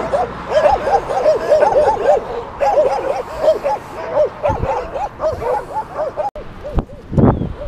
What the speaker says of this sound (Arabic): او ما جاو الكلاب.